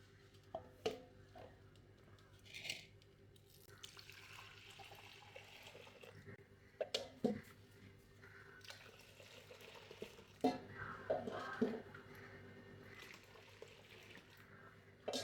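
Buffalo milk pours and splashes into clay pots at home in several uneven bursts, close and soft, with brief pauses and handling knocks between pours.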